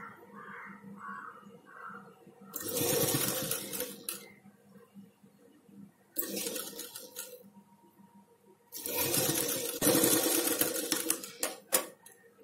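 A sewing machine stitches a puff sleeve on a nighty in three loud, rapid whirring bursts separated by quieter pauses with faint handling noise.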